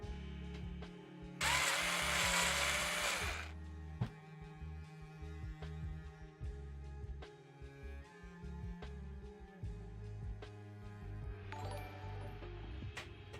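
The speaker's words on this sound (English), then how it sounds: "Let's unscrew that now." A power drill or electric screwdriver whirs in one loud burst of about two seconds while backing a screw out of a part during a PC build in a Thermaltake AH T600 case, then a shorter, fainter burst follows near the end amid light clinks.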